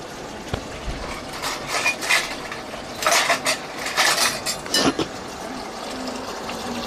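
A metal utensil scrapes and clatters against a cooking pot as cooked meat is lifted out, several bright scraping strokes in a row at close range, with no voices.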